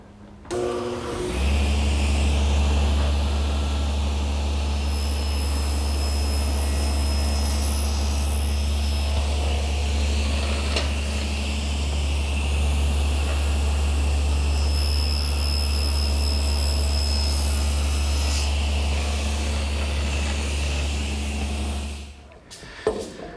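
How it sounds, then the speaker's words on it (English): A table saw making a shoulder cut in a wooden piece guided by a block away from the fence, running as a loud, steady motor whine with a constant low hum that starts abruptly and stops near the end. "I want to make this shoulder cut at my table saw"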